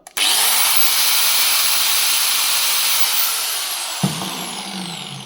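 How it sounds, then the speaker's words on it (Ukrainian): A Makita 720 W angle grinder spins up abruptly and holds a loud, high, steady whine, then fades slightly before a brief thump near the end, with no voices. "Слухаємо, як працює макіта на 720 Вт."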